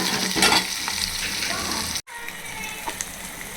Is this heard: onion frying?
yes